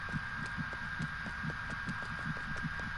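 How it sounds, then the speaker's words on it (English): A game heartbeat effect from Dreams, set in a spooky house, thumps steadily in a double-beat rhythm about three times over a low constant hum, with no talking. "The heartbeat sound effect is making my heartbeat go up."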